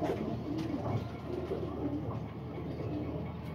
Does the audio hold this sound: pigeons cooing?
yes